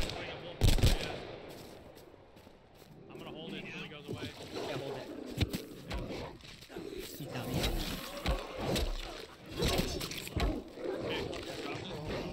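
Gunfire in the survival video game Dread Hunger, with sharp bursts of shots scattered through game sounds like creaking boat and water noises while players talk excitedly over the action.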